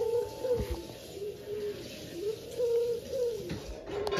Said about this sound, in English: This is a pigeon.